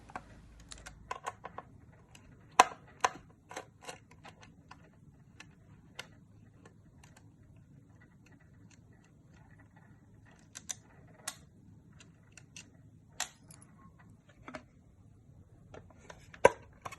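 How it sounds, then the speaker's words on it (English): Sparse, sharp clicks and small metallic taps as four screws are undone from a Samsung TV speaker, close up with quiet pauses between bursts and no talking. "To remove it, we just need to undo these 4 screws."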